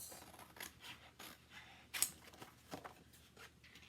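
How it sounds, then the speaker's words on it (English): Non-stick Chalk Couture scissors snip apart craft transfers in a few quiet, close cuts, with soft paper rustling between them. "I'm just going to cut these apart to start"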